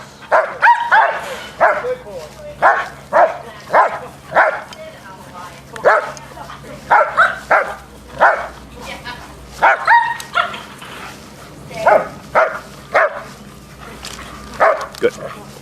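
Dogs in protection training bark and yip in repeated sharp bursts, loud and close, with brief whimpers between them and a person's voice in the background.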